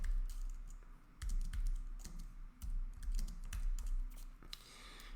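Quick bursts of keystrokes on a computer keyboard, close and quiet, with short pauses between runs of typing and no speech.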